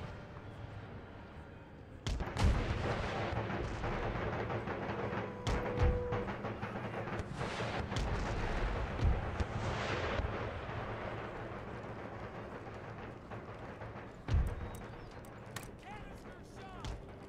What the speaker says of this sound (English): Let's just blast the breach with canister shot rather than shrapnel shot.